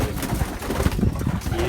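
An Amber Sira pigeon with black eyes coos close by in a loft, soft repeated throaty calls over a busy background of other birds, with a voice briefly audible.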